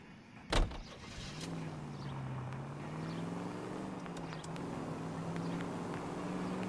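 Car in the crime video game L.A. Noire: a sharp thud or door slam early on, then a steady engine hum that rises slightly as the vehicle pulls away and keeps running at moderate level.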